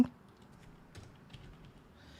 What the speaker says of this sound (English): One second, I'm just typing something.